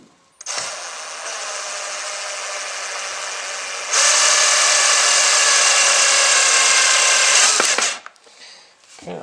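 Power drill driving screws into a red oak bench during a woodworking build, running loud and close for several seconds, then shifting to a higher, harder whine before stopping.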